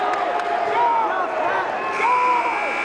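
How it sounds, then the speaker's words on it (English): Home crowd of Toms River North cheering and shouting at a boys' high school basketball championship game, a steady roar rising and falling in the gym, with a commentator's voice over it. "That's a North crowd."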